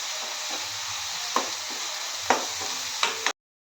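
Onions and curry leaves sauté in a pan for a clam meat and tomato dish, giving a steady close sizzle broken by three or four sharp scraping stirs before it cuts off abruptly.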